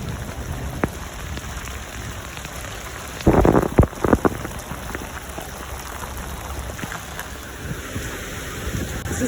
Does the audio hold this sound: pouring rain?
yes